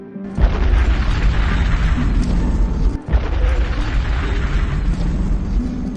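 Two monsters trapped inside a cell detonate themselves in a film scene: a continuous roaring blast with heavy low boom, briefly cut near the midpoint before a second thunderous explosion swells and rumbles on.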